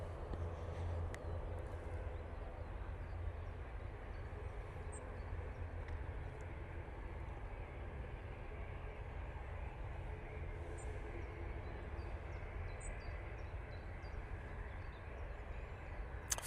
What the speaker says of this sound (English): Firm landing there from the Ryanair.